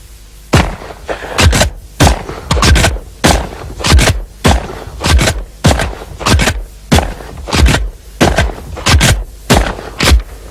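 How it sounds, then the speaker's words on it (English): A Benelli shotgun fires in rapid succession at a clay target and at its own ejected empty cartridges. Roughly twenty sharp, loud, close reports are spaced in an uneven, quick rhythm, with no talking. "with the Benelli you can make new targets by shooting the empty cartridges as they come out of the Benelli"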